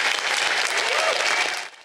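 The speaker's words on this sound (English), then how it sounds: "They were applauding not just a candidate in defeat, but the end of an era in Wisconsin politics" A crowd of supporters applauds Tommy Thompson on election night after his U.S. Senate defeat in Wisconsin, a dense steady round of clapping that fades out at the end.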